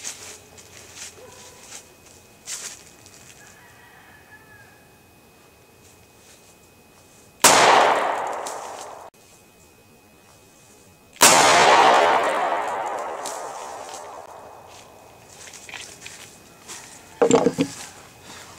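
Glock 23 pistol firing a 180 grain .40 S&W Gold Dot round through four layers of denim into ballistic gel outdoors, two loud close sharp shots with long ringing decay, separated by quiet.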